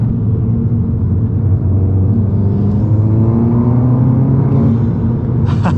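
A tuned turbocharged VW GTI with around 400 horsepower pulls hard on a canyon road, its engine droning steadily as the pitch climbs under boost, with a faint turbo whine rising alongside the continuous interior rumble.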